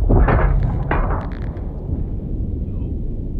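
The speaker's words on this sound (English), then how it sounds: "Sounds like gunfire in space" Rapid bursts of heavy video game gunfire and booming blasts crowd the first second and a half, then give way to a dense low rumble.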